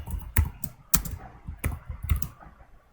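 Quick bursts of typing on a computer keyboard, close and fairly loud, with uneven clusters of key clacks over a few seconds.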